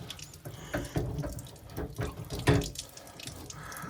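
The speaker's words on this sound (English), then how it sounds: "Drain every one of these hoses." Water running and splashing out of drained hoses while winterizing a Jayco Melbourne RV with a tankless Truma water heater, an uneven gurgling flow with drips and spurts, fairly close and moderate in level.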